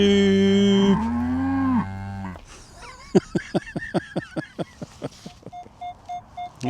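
Cattle mooing in a Somerset field, several drawn-out low moos in the first seconds, loud and close, followed by rustling, clicking steps and short tonal beeps.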